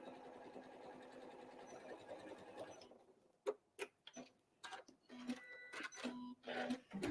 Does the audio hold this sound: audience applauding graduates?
no